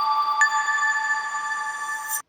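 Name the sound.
telephone ringing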